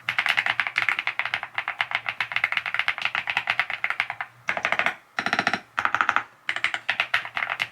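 Fast typing on a computer keyboard, a dense run of crisp clacking keystrokes with a few brief pauses between bursts, close and fairly loud with no talk.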